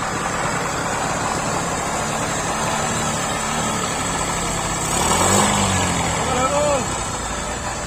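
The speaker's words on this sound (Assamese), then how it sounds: "এতিয়া বাইক ষ্টাৰ্ট হোৱা আৰম্ভ হৈ গৈছে।" A motorbike engine starts and runs after an oil change, a steady mid-pitched idle that swells briefly as it is revved, with people talking over it nearby.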